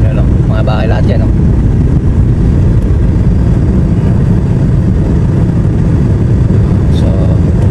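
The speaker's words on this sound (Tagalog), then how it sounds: "So medyo malakas tong sasakyan dito sa likod." Engine of a delivery vehicle on a hilltop drive above houses in Oman runs loud and steady throughout, with a rumbling low drone and a few faint clinks early on.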